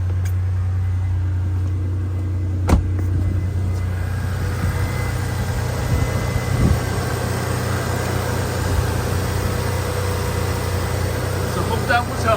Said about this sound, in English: listen to how smooth and quiet the engine is